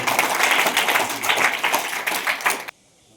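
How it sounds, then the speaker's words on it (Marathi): A school audience claps for a student, a dense burst of applause that fades slightly and then cuts off abruptly into silence near the end. "तिच्यासाठी टाळ्या वाजवा"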